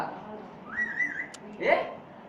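A pet parrot gives a short whistled phrase close by, a few rising and wavering tones against quiet room noise, with faint talk in the background.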